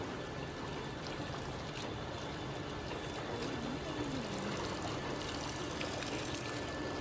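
Water from a motor pump gushes into a paddy field channel in a Kerala village, a continuous, even rushing stream at moderate distance that stays steady throughout, with no voices.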